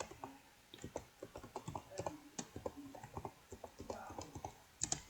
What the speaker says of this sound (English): and type your password.